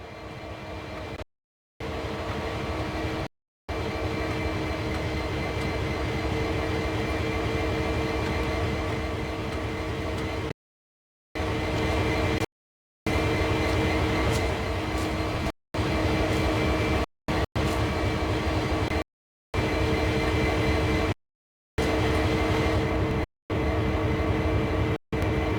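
Locomotive rolling slowly onto a turntable in Train Sim World, a steady loud rumble of engine and rail noise with faint tonal hums, broken by several brief silent gaps.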